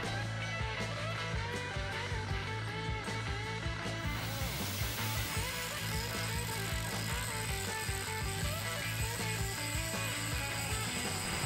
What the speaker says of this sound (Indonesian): kita akan poles hasil pengelasan ini sampai besi menjadi bersih kembali